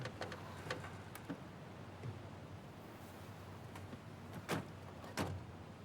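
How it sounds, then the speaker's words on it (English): An old car creaks and groans with its engine idling aboard a ferry in the video game Tell Me Why, a steady low rumble with scattered sharp creaks and knocks over about six seconds, no talking. "The squeaking and groaning of the old car, the engine, the sounds of the ferry."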